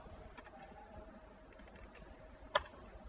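Computer keyboard keys pressed a few times, soft sparse clicks with one sharper tap, faint and close in a quiet room.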